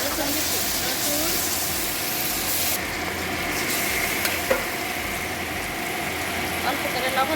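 Potatoes with ginger and garlic fry in a pan, giving a loud, continuous sizzle and hiss, with occasional spatula scrapes and knocks as they are stirred up close.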